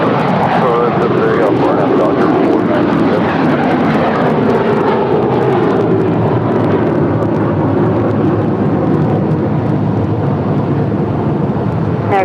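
A Polar heavy cargo jet takes off at LAX: a loud, continuous jet engine roar fills the whole stretch, steady and broad, with no other distinct sounds standing out.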